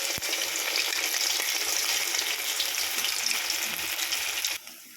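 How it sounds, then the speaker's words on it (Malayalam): Okra (bhindi) frying in hot oil in a pan, a loud, dense, steady sizzle close up that stops abruptly near the end, with no voices. "വെണ്ടയ്ക്ക ഫ്രൈ ചെയ്യാൻ വേണ്ടിയിട്ട് ചീഞ്ചട്ടിയിൽ കുറച്ച് എണ്ണ ഒഴിച്ചിട്ടുണ്ട് കേട്ടോ"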